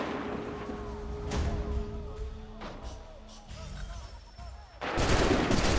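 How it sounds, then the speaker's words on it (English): Cannons booming in Assassin's Creed 3, several heavy blasts spaced a second or two apart within game battle noise, ending in a louder roaring burst. "Oh, we got cannons."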